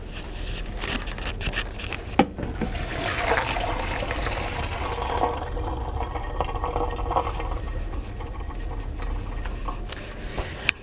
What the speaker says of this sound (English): put them into my colander, which is a pot with holes in it, and drain it